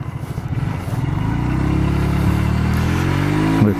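A Honda Shadow 125 motorcycle with worn bearings idles close by, a steady throbbing engine note that settles from slightly uneven pulses into a smooth loud running sound, no voices.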